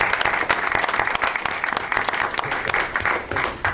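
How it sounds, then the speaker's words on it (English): Audience applause at a school board meeting, a dense, steady patter of many hands clapping at once, fairly close and continuous, with no talk over it. "how about we give you guys a round of applause?"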